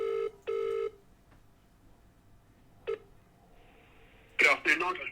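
A mobile phone dialing a business number: two short keypad tone bursts, a single later beep, then a brief burst of ringing tones near the end, clear and close with quiet background.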